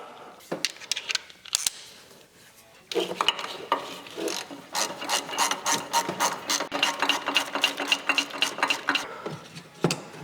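A ratchet bolts injector components back into a Duramax LB7 diesel engine, giving long close runs of rapid, steady clicking broken by brief pauses.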